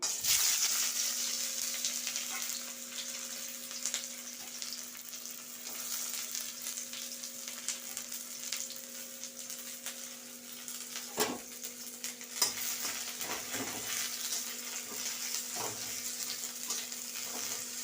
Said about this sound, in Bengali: খড়ার তেল গরম হয়ে গেছে এবার আমি পেঁয়াজগুলো দিয়ে দিলাম